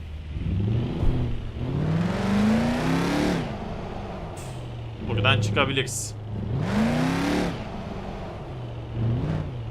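A Mercedes car engine in Euro Truck Simulator 2 on the Dreamland map revs and accelerates several times in rising surges, then eases between pushes, under steady background engine drone while someone talks.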